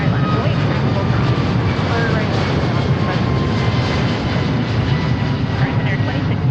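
An Alaska jet airliner taking off from runway 34R at Seattle-Tacoma, a loud, steady broadband engine roar that holds throughout, with a voice talking under it.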